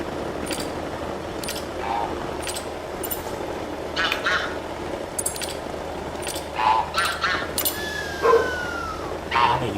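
Geese call repeatedly as a flock flies in during goose hunting in Salzwiesen Park in The Hunter: Call of the Wild, with honks and quacky cries rising and falling over a steady outdoor ambience.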